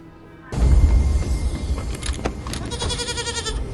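A goat bleats loudly and close up, a sustained wavering call that breaks in suddenly and carries on for several seconds.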